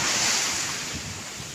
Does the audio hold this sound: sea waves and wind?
yes